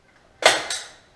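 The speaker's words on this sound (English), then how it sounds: "take my Power Fix staple gun and" A Power Fix staple gun drives a staple into corner bead, giving a sharp, close snap followed a moment later by a second crisp crack, each decaying quickly in a quiet room.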